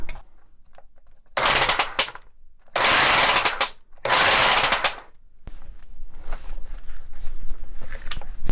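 A Wacker EHB10/100 demolition hammer runs in three loud, rapid bursts separated by pauses, then keeps going at a lower, rattling drone.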